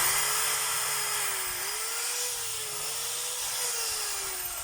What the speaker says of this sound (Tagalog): Ito naman yung drill lang.